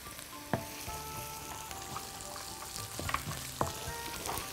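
Garlic frying in a pan with fresh tomato juice and olive oil, a steady low sizzle running throughout with a few sharp clinks of a utensil stirring.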